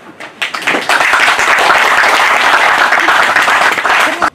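An audience at a solidarity event bursts into loud, sustained applause for volunteers and teachers, rising sharply after a brief lead-in and holding strong until it cuts off.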